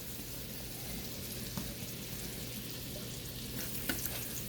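Candy roaster squash sizzling and frying steadily in a hot pan, a continuous soft crackle with a few faint stirring clinks, no talking.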